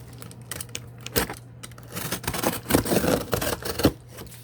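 A cardboard shipping box is sliced open up close, with scratchy, ragged bursts of cutting and tearing that grow busier and louder toward the end, and no one speaking.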